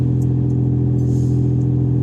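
A 2000 Dodge Dakota Sport 4x4 with a loud exhaust and an exhaust problem idles with a deep, steady rumble, close and constant with faint clatter, no talk over it.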